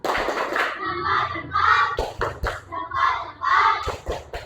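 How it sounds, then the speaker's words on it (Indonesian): Fifth-grade children in an Indonesian elementary school classroom chant together in rhythm while sharp hand claps land at regular beats, a patterned group 'tepuk salut' clapping routine heard up close. "Beri tepuk salut."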